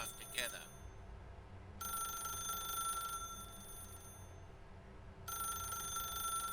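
A telephone rings in the Stanley Parable video game, a bright electronic trill repeating in two long bursts with a pause between, loud and clear over a faint background hum.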